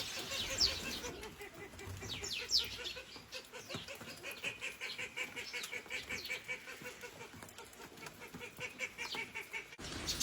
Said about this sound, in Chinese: 这地里面各种各样的鸟都有，等一会儿都会来偷吃